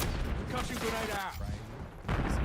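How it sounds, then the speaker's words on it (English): A concussion grenade in the video game Call of Duty Black Ops 6 bursting with a dense, loud blast amid rapid gunfire, followed by a brief lull and another burst, with in-game voices mixed in. "Concussion grenade out."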